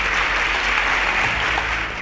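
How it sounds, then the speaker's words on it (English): Studio audience applause for contestants on a quiz show, a steady dense wash of clapping that holds at an even loudness throughout and dips slightly at the very end. "A round of applause for them."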